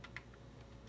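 A few faint, sparse clicks of typing on a computer keyboard attached to a 2006 iMac, quiet and close over a low steady hum.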